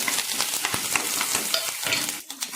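Cumin seeds and grated ginger fry in a pan with a steady, dense crackling sizzle, close and continuous, with faint stirring scrapes.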